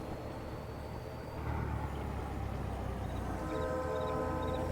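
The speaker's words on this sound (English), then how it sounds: "Here comes a train." A train passing in a logging-town video game, a faint, steady rolling rumble that grows slightly louder partway through, with horn-like tonal notes near the end.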